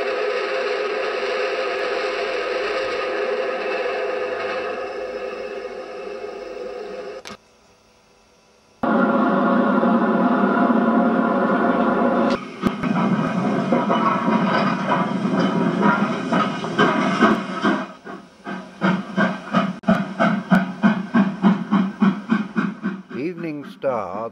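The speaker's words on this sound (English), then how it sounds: "The last steam engine built by BR passes light engine from Yarnton." The last steam locomotive built by British Railways passes as a light engine near Wolvercote Junction in 1964, a loud steady hiss and rumble that drops briefly, returns, then breaks into clickety-clack rail beats as it moves by.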